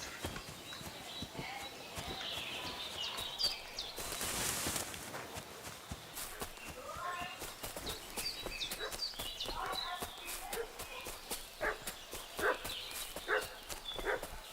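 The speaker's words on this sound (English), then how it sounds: "What's that dog making such a fuss about?" In the video game Kingdom Come Deliverance II, a dog barks repeatedly at a distance, mixed with a horse's hoof clip-clop and footsteps in a village scene. Faint voices sit beneath the barking.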